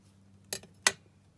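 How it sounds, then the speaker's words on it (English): Scissors snip the overhanging edge off a tag made from packaging, giving two quick, crisp cuts close by in an otherwise quiet room. "just snip off that edge that's overhanging"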